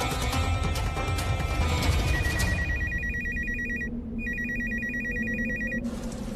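A telephone rings in a steady repeating electronic tone, loud and close. It plays over a busy music and sound bed from a TV drama scene, pauses briefly, then rings again.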